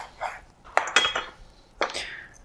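Knife cutting broccoli florets apart on a cutting board in a home kitchen, a few short, sharp close knocks and scrapes with quiet gaps in between.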